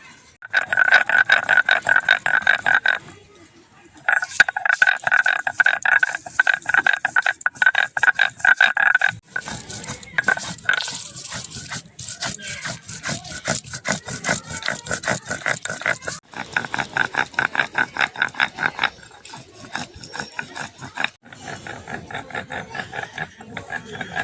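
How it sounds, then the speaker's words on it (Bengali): Dried chilli, chopped onion and two garlic cloves are ground into a paste with a steady run of rough, rhythmic scraping strokes, close and fairly loud, with a few brief pauses. "শুকনো লঙ্কা পেঁয়াজ কুচি আর দুখানা রসুন নিয়েছি সব আমি দিয়ে বেটে নেবো"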